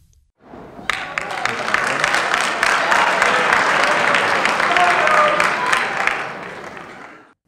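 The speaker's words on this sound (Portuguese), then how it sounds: "É para aplaudir mesmo." An audience at a podcast interview with a writer breaks into applause that swells quickly, holds steady and full for several seconds, then fades out, with some voices mixed in.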